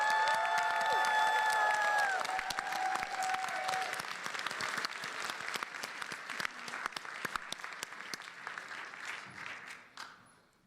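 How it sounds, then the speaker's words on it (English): A convention panel audience at PAX East 2020 bursts into applause for a comedian. Dense clapping and some cheers start loud, then thin out and fade over about ten seconds until only scattered claps remain. "Please give a warm round of applause"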